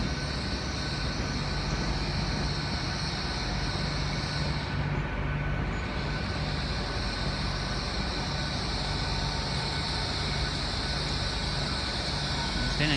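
A nine-coach Southampton-bound passenger train pulls out of Exeter St David's station on a Sunday evening, its steady rumble and hum close and continuous throughout, with a brief dip in the high hiss midway.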